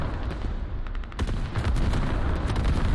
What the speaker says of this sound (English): Now this is a creeping barrage